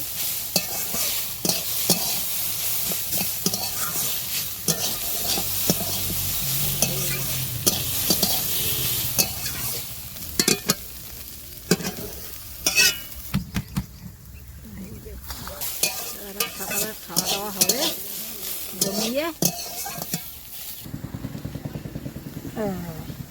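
Garden kohlrabi fries in a pan with a continuous crackling sizzle. Repeated scraping stirring strokes come through, and a person talks intermittently over the cooking.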